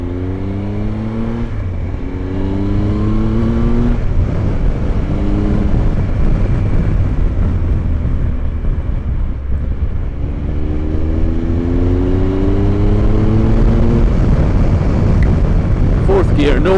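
A Triumph Tiger 1215cc adventure motorcycle engine pulling from low revs and accelerating through the gears, with rising whine and rhythmic gear steps, loud and close amid wind noise, while a rider talks.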